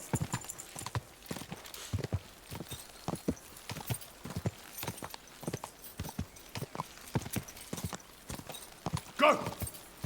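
Horse hooves clip-clop in a steady rhythm while riding in the video game Kingdom Come: Deliverance 2, close and distinct, with a brief whinny near the end.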